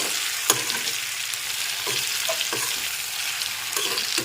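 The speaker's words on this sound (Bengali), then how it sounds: "আর আরও হাফ টিস্পুন গোলমরিচ গুঁড়ো দিয়ে দিচ্ছি একটু নেড়ে ছেড়ে মিশিয়ে নিলাম" Chili chicken cooked restaurant style, stirred in a hot pan after half a teaspoon of black pepper powder goes in: a steady loud sizzle and fry with a few scraping stirs of a spoon, no voices.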